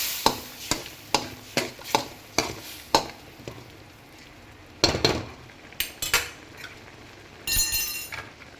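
A spoon stirs drumstick sambar masala mixed with dal water in a pan, giving a run of sharp, evenly spaced clinks against the metal. Louder scraping and clatter follow near the end.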